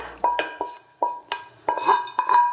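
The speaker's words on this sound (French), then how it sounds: "je le verse ici dans un bol" Fried tofu poured from a frying pan into a bowl, giving a close, fairly loud series of sharp metallic and ceramic clinks in an uneven rhythm, with no talking.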